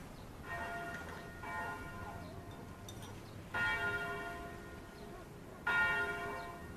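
Church bells ring out in slow, resonant strikes a couple of seconds apart, each tolling note swelling and fading over a quiet background, heard at moderate distance with no speech.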